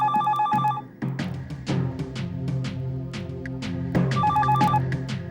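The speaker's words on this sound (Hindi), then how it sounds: "टेलीफोन की घंटी बजती है।" A telephone bell rings in a TV drama scene, repeated electronic trills over a steady, layered musical background, loud and continuous with no talking.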